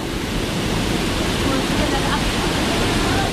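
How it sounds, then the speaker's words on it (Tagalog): Strong river current in Cebu swollen after heavy rain, a loud continuous broadband rush of water that stays steady and close throughout. "Lumakas yung agos."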